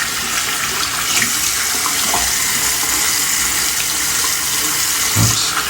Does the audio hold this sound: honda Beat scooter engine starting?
no